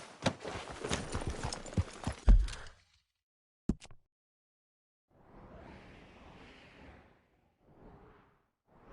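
A horse's hooves clop and gallop in Red Dead Redemption 2 for a couple of seconds with a sharp thud, followed by silence and then soft whooshing wind-like passes.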